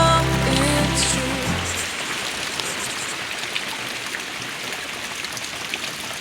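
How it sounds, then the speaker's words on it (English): Heavy rain pours steadily at a homestead, a dense continuous hiss and patter that follows a brief stretch of music at the start and carries on loud and alone. "it's raining a lot"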